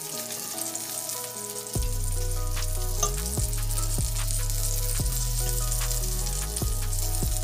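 Breaded oyster mushrooms fry in a pan of hot oil, giving a loud, steady sizzle that starts abruptly and runs on without a break, with occasional faint clinks of a utensil against the pan.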